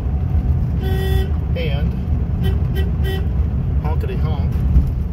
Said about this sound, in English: honkity honk, got a working 6-volt horn, added bonus